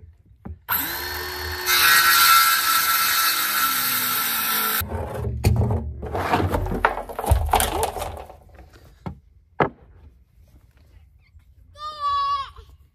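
A power saw cuts wooden 2x12 boards to four-foot lengths for a gravity-fed pig feeder. One loud, sustained cut lasts several seconds, then comes the clatter and knocking of boards, and a brief high call near the end.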